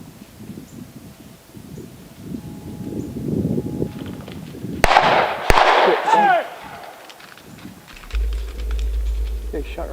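Hunters firing a gunshot in the woods, a sharp close crack and a quick second report cutting through rustling movement, with people talking around it.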